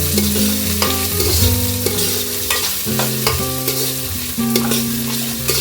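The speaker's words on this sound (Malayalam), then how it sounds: "എന്നിട്ട് ഉള്ളി നന്നായിട്ട് വഴറ്റാം." Onions with mustard seeds and curry leaves sauté in a hot pan for chicken curry, a close, steady sizzle broken by repeated scraping and clanking strokes of a spoon stirring.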